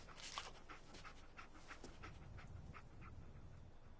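A dog in a video game pants steadily, quick soft breaths repeating in an even rhythm, faint and close under a low background hum.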